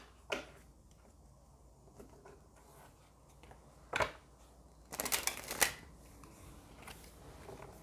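Tarot cards are riffled in a quick burst of crisp, fluttering snaps near the microphone, preceded by a few soft isolated taps and handling sounds.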